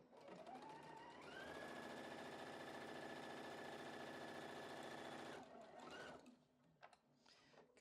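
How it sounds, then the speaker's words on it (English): A sewing machine stitching quilt top pieces together, a close, steady mechanical whir that revs up and holds for several seconds before slowing to a stop, followed by faint handling clicks. "This is pretty easy sewing, guys. Pretty easy sewing."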